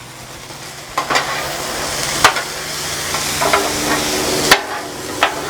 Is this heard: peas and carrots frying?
yes